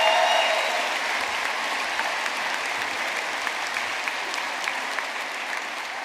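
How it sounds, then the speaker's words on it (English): A large audience at an Ulster University graduation ceremony in Belfast applauds the academic staff, a steady, dense wash of clapping that holds evenly, fading slightly over several seconds with no talking. "a round of applause for the Ulster University academic"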